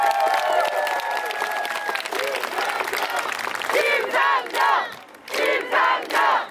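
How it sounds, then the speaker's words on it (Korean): A crowd at an outdoor political campaign rally in Songdo, Incheon, claps and cheers. Steady applause runs beneath a loud amplified voice over a PA, with surging shouts near the end. "큰 환호의 박수 부탁드리겠습니다"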